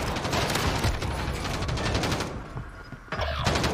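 Rapid video game gunfire during a Halloween event match, dense bursts of automatic shots crackling continuously, briefly thinning out before resuming at full loudness.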